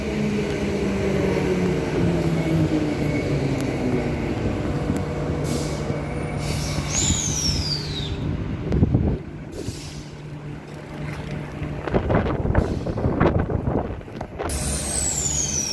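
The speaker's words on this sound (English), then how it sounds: "EMUs 45 and 22 leaving platform 1 for a Perth service." Four-car electric multiple unit passenger train departing a station platform at Showgrounds, with a rising motor whine, rumbling wheels, air brake hisses and squeals, and bursts of clatter as the train pulls away.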